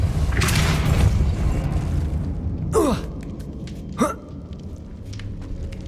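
A Depulso spell cast in the Hogwarts Legacy video game, heard as two sharp whooshing bursts with quick downward sweeps over a steady rumbling game ambience, the second burst shorter and punchier.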